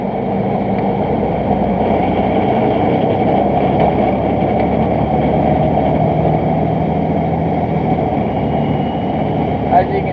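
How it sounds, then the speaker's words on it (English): Engine of a new Superdump dump truck being driven, a steady loud mid-low rumble with a constant drone running throughout, heard from inside the cab with no other sounds breaking through. "We're driving the new Superdump right now."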